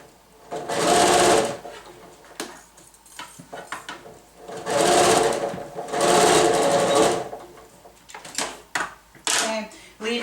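A sewing machine back-stitches a seam in t-shirt fabric for a mask, running in three loud, steady buzzing bursts separated by pauses with handling noise and brief talk.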